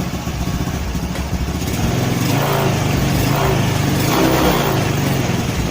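A carbureted Honda Beat scooter engine with an unstable, sputtering idle revs up and down repeatedly, a loud close buzzing drone rising and falling in pitch without any voices.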